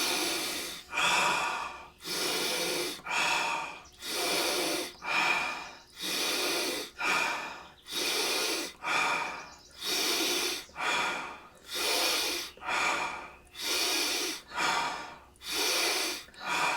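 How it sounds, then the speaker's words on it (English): Rapid, forceful breaths through alternating nostrils in a breathing exercise, about fourteen sharp sniffing inhale–exhale bursts in a steady quick rhythm, close and loud with no other sound. "Remember, deep inhale through the right nostril."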